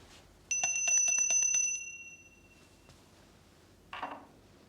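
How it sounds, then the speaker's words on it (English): A bright metallic bell rings rapidly several times, then its tone decays and fades; a softer scrape or rustle follows near the end. "The bell invites me."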